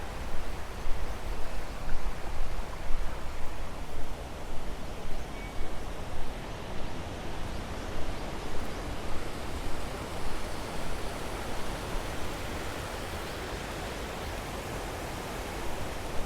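A small-town river flows in a steady, even rush of water, close and continuous, with no voices.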